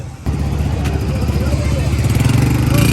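A vehicle engine starts running as the group sets off, a steady mid-pitched motor drone beginning abruptly and continuing close and loud, with people talking over it.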